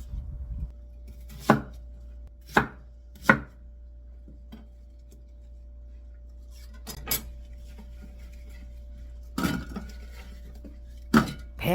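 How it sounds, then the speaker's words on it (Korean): A knife strikes a cutting board in sparse, sharp chops through a peeled pear, a few quick ones early then isolated knocks, with quiet pauses between and a faint background hum. "배를 믹서에 갈기 좋게 썰어서"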